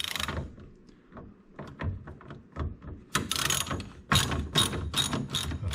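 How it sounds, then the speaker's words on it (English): A ratchet fitted with a 7/16 deep well socket turns off the tail light nuts on a 1969 Mustang, giving several close, rapid clicking bursts that grow louder and denser toward the end, with no talk. "you're going to need a deep well socket, 7/16, 2 on the top, 2 on the bottom"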